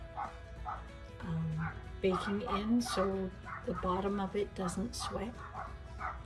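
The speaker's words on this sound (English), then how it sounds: "Sorry about the dogs barking." Dogs barking and yipping repeatedly nearby, with some whimpering, while a person keeps talking over them.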